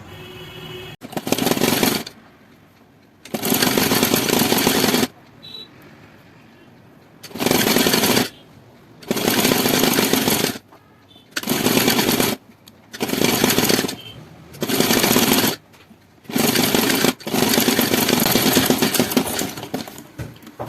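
A sewing machine top-stitches a blouse neckline in about nine loud, steady bursts of rapid stitching, with short quiet pauses between runs as the fabric is repositioned.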